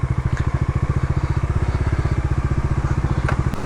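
A motorcycle engine close by near a waterfall in Chikmagalur, running with a steady rapid loud thumping beat like a slow idle before it cuts off at the end.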